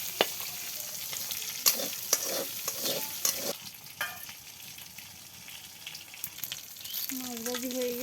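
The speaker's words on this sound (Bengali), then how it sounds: "মাছ ভাজি হয়ে গেছে, এবার তুলে নিতেছি" Fish fries in a pan in a village kitchen, giving a quiet ongoing sizzle broken by several sharp utensil taps and scrapes, with a brief tonal voice-like sound near the end.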